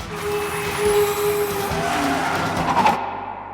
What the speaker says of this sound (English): the sound of the brakes in Ford v Ferrari